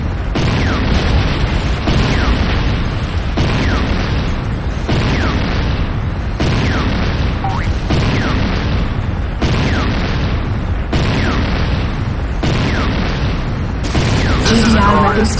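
Nod structure blowing up in C&C Renegade, a run of loud, evenly spaced booming explosions roughly every one and a half seconds, heavy and continuous, with voices speaking throughout.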